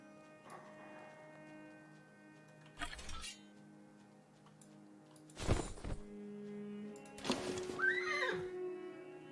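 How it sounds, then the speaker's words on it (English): A horse neighs in the fantasy game Reign of Darkness, a clear whinny with a rising, warbling pitch near the end, preceded by a couple of short thumps and clatters over a steady low game ambience. "And you can see there's horses in the game."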